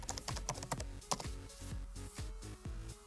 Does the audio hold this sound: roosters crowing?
no